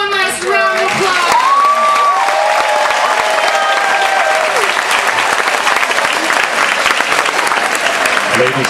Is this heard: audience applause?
yes